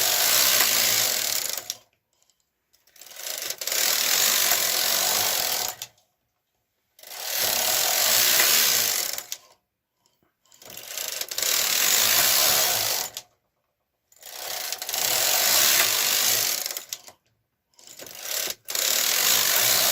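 A knitting machine carriage working a yoke sweater rattles and whirs in repeated passes, each few-second run of mechanical clatter separated by short silences.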